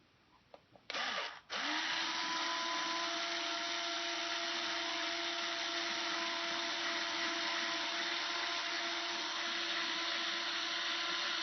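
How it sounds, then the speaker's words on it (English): A brief spin-up, then an electric drill whirs loudly and steadily for several seconds boring through the wood of a Kala 8-string baritone ukulele, a constant motor whine without pauses. "drill a hole"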